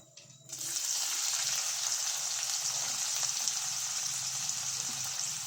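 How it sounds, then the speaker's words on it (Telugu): Chopped onion drops into hot oil with tempering spices for a chicken liver curry, bursting into a loud, continuous sizzle that carries on steadily close by. "పోపు దినుసులు అయిన తర్వాత ఉల్లిగడ్డ వేస్తున్నా"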